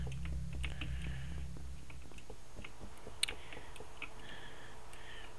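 Mouse clicks while completing a task in the Among Us video game, a quick scattered series of light clicks, near and fairly faint, with no talking.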